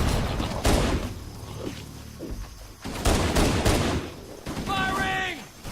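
Bursts of weapon fire in the Halo video game crackle at moderate loudness in uneven volleys, mixed with mechanical clanks and shouting voices.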